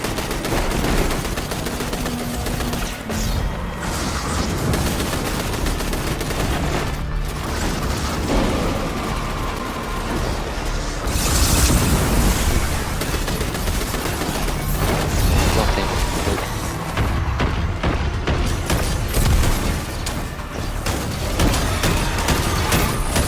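Rapid gunfire from a fast-firing weapon in the video game Destiny 2 rattles in dense bursts across the whole stretch, with loud game effects and voices talking in the background.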